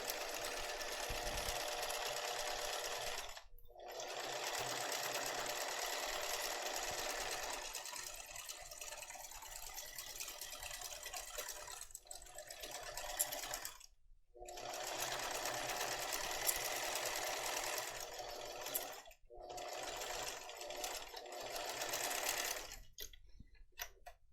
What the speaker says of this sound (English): that's a great guide to sew on as you're sewing a zipper into a bag